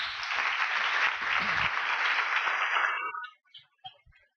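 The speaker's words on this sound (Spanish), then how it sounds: "Por favor, les agradezco que den un gran aplauso al siguiente conferencista" Audience applause for a conference speaker at a university event, a dense steady clapping from a crowd that lasts about three seconds and then breaks off into a few scattered late claps.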